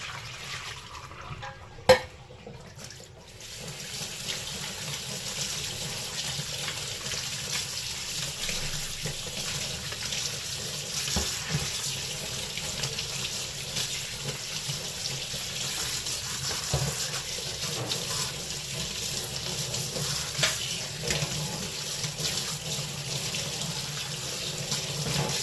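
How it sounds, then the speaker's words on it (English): Tap water runs steadily into a sink while utensils are washed with clean water, a continuous splashing hiss lasting the whole stretch, with a brief knock near the start and faint clinks scattered through. "Thereafter, wash them with clean water."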